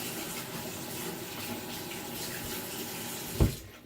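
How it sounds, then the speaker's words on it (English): Steady stream of water pouring into a sink in a chemistry lab, a continuous close rush with a short louder splash near the end. "I can just dump this straight inside of the sink. but I use lots and lots of water"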